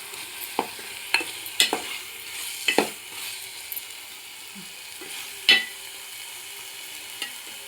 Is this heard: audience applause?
no